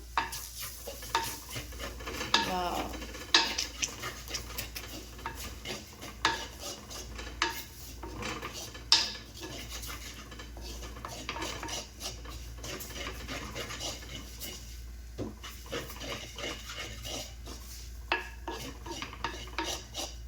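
A spoon stirring chicken curry with chicken masala and turmeric in a pot, giving repeated scraping, clinking strokes with a soft sizzle underneath, steady and close, with no talking.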